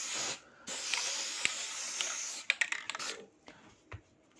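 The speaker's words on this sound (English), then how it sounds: "You can see you're getting good spray out of that can." An aerosol spray can sprays a steady hiss for about two and a half seconds, then breaks into short bursts with brief pauses, close by and fairly loud.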